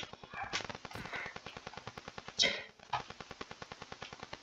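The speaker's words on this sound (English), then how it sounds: "Thought I heard firework noises." Rapid popping bursts of fireworks inside a block-building mining video game, a steady fast rhythmic crackle of repeated bangs with a couple of louder cracks near the middle, close and prominent throughout.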